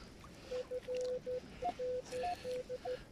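A metal detector gives a run of short, steady electronic beeps and tones at a stormy detecting meetup, pulsing in quick clipped bursts with a couple of higher chirps, fairly clear over faint background noise.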